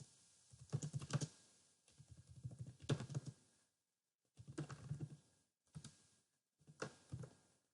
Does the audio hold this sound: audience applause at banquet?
no